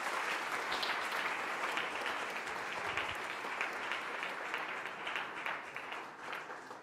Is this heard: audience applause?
yes